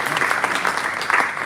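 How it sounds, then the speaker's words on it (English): Audience applause at a San Diego Comic-Con toy reveal panel, a brief burst of dense, lively clapping from a sizable crowd in a hall. "give a round of applause for ice cream."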